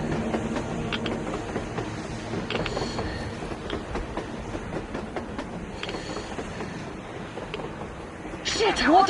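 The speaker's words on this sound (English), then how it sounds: "A damn train on the surface!" A train rolling across the surface in Metro: Exodus, a continuous rumbling clatter with rhythmic clicks and creaks throughout. Voices talk over it, and a sharper hiss rises near the end.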